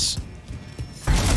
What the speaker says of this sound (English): do you really have time to be loading that big ass gun?